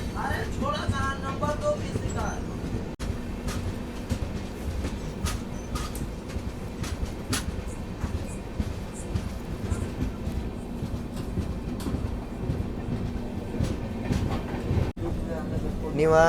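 The Golgumbaz Express rumbles steadily along the tracks after departing Basavana Bagewadi, heard from inside a first AC coach, with rhythmic clattering and occasional sharp clicks, while people talk over the continuous noise.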